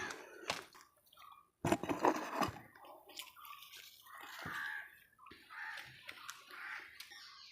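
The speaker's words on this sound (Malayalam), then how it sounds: "ഇതിനകത്തോട്ട് കുറച്ച് വെള്ളം നമുക്ക് തളിച്ചു കൊടുക്കാം" Water is sprinkled onto the soil around pumpkin plants, giving soft, intermittent splashes and drips with quiet gaps, close by and faint.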